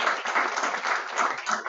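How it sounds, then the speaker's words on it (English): An audience at a lunchtime lecture breaks into full, dense applause, a continuous even wash of many hands clapping close together at steady volume with no voices over it. "Meredith Eldridge deserves a particular round of applause"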